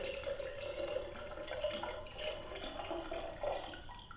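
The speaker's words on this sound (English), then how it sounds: "Is for water, if you can hear that" A toy drink dispenser from an American Girl doll set plays a recorded water-pouring sound, a faint, steady trickle and splash lasting a few seconds with no talking.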